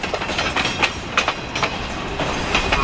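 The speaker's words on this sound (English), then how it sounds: "Bunch of freight heading back south." Freight train of the Lake Superior Railroad at Escanaba hauled by an EMD SD40-2 locomotive heading south, with steady rolling rumble and rhythmic clickety-clack of wheels over rail joints, fairly close and continuous.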